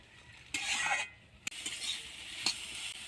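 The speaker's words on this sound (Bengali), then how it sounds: "এবার ভালো করে মশলাটাকে কষিয়ে নেব।" A masala paste of poppy seeds, onion and a small green chili being stir-fried in a pan, with soft sizzling under a few bursts of scraping stirs and a sharp clink of the utensil against the pan.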